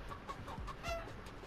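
A chicken clucks in the video game Fall Guys, a few short, quiet clucks in quick succession with no talk over them.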